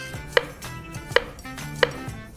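A kitchen knife chops taro root on a cutting board in three sharp, evenly spaced thuds, close and clean with no talking.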